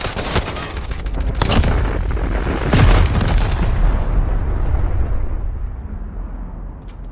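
Tactical nuke launch and detonation in the Call of Duty Warzone video game: loud, dense booming blasts with crackling gunfire-like bursts that swell around the middle, then slowly fade toward the end.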